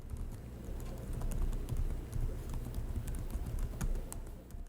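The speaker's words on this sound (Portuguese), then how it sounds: "Já na parte de digitação, as teclas são firmes, mas são bem leves de pressionar, ele é bem confortável e também bastante silencioso." Steady typing on a Lenovo LOQ HX laptop keyboard with firm but light, fairly quiet keys: a continuous run of close, soft clicks and taps over a low background hum, with no talking.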